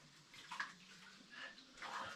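Water trickles and splashes faintly into a freshly dug sump hole in the mud inside a greenhouse, in soft intermittent bursts.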